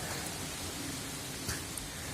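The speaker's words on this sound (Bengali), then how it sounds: "কি গতিতে বাতাসগুলো প্রবাহিত হচ্ছে।" Heavy rain roars steadily with gusting wind from Cyclone Remal, a dense continuous wash of storm noise with no voices.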